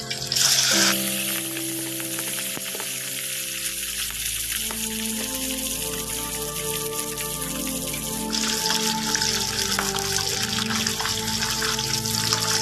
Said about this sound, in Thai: น้ำมันร้อนแล้วเราจะเอาหัวกุ้งกับหางกุ้งลงนะทุกคน ลงไปทอดก่อนนะ